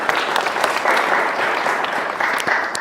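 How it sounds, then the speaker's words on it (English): An audience applauds warmly at a design critique event, a steady crowd clapping that holds at moderate loudness throughout with a few sharper claps standing out. "Big round of applause for him."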